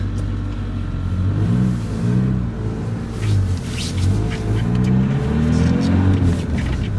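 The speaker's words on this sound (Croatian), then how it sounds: "Sad ćemo se pomaknemo, ide auto neki." A car's engine rumbles loudly nearby, its pitch rising and falling as the vehicle drives past.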